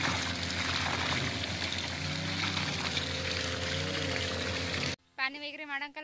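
Water pours and gushes steadily while marigold plants on a farm are watered, a continuous rushing flow for about five seconds before it cuts off and a voice speaks.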